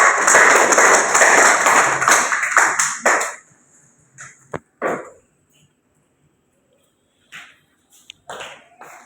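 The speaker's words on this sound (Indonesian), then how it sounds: "tepuk tangan dulu untuk Adila" A classroom of students gives a short burst of dense clapping for a classmate during a microteaching lesson, lasting about three seconds before dropping to a few scattered taps and knocks in a quiet room.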